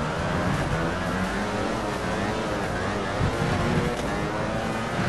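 Racing motorcycle engine in the MotoGP video game Valentino Rossi The Game at the Italian Grand Prix, a continuous high engine roar held at full throttle, loud and steady throughout.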